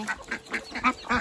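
Several ducks quacking in a quick series of nasal calls, nearby and moderately loud.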